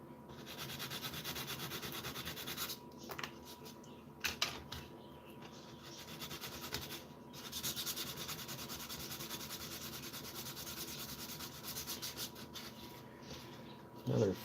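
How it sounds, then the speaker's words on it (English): Hand sanding of parts, repeated rubbing strokes with scratchy texture coming in uneven bursts and short pauses, close by and fairly quiet. "Another fun-filled episode of me sanding parts."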